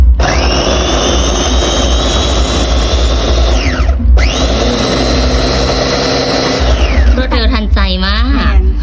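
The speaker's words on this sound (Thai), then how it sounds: "ปั่นเลยจ้าจ้ะ" An electric blender whirs loudly and steadily, grinding red chili, garlic, coriander root and pickled garlic for a fresh chili dipping sauce; the motor winds down, briefly stops, then restarts, with a voice speaking over it near the end.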